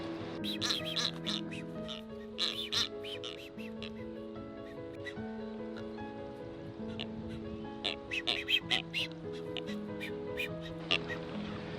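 Seabirds call across a nesting colony on a remote Mexican island, with a chorus of short, repeated squawks and quacking cries rising and falling over a soft continuous background.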